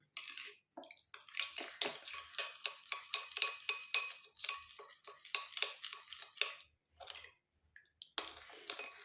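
A herbal hair oil mixture is stirred close up in quick, regular scraping and sloshing strokes, with a few brief pauses between bursts and no voices.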